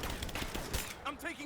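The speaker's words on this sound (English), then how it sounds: "I'm taking fire!" Rapid gunfire crackles in Rise of the Tomb Raider during a firefight, with shouting voices of soldiers breaking in over the shots toward the end.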